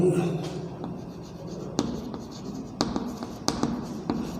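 A pen writes by hand on paper, close scratchy strokes with small taps between them, steady and fairly quiet.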